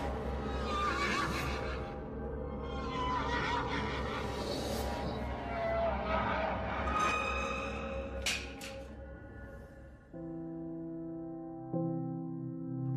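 Horses in a stable whinny repeatedly, several loud, close neighs with rising and falling pitch overlapping one another, followed by a couple of sustained tonal calls toward the end.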